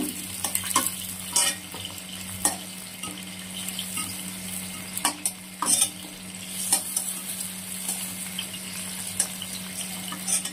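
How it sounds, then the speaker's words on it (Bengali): Pointed gourd (potol) pieces fry in oil with a steady sizzle, punctuated by sharp scraping and stirring clatters from a spatula against the pan, with a low hum underneath. "এই যে দেখুন পটলগুলো কেমন লাল লাল ভাবে ভাজা হয়ে গেছে"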